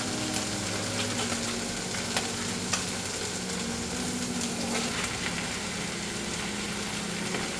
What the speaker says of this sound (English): so now I'm going to add the meat.